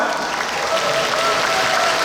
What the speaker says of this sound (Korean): 우리 모두를 위해서 우리 한번 박수 한 번 칠까요?